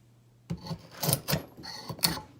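A draw knife blade being sharpened in a vise, giving a handful of dry rasping strokes in an uneven rhythm, close by and moderately loud, with no one talking.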